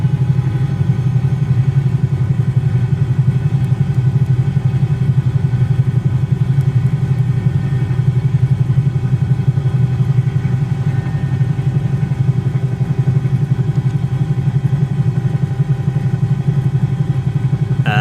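A Cowansim 222B helicopter's engines in a flight simulator game run as a steady, loud turbine-and-rotor drone with a constant pulsing texture, holding even throughout with no speech.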